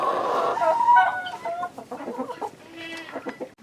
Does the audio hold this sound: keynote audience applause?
no